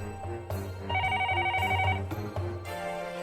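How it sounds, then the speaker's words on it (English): A telephone rings in a scene from the Higurashi visual novel, a bright repeating electronic trill that plays briefly over a bed of sustained background music. "The noise of the phone suddenly broke the silence."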